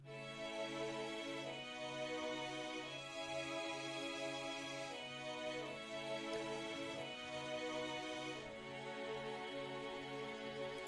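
Sustained sampled violin chords from the free Sonatina Violin plugin, played steadily in sections, bright and full, shifting harmony every couple of seconds with a low rhythmic pulse underneath.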